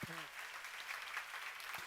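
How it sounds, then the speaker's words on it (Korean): A brief voice opens, then a church seminar audience claps in a steady, even wash of applause for the rest of the short moment. "빨리 박수로 하세요."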